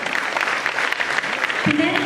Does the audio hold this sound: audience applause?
yes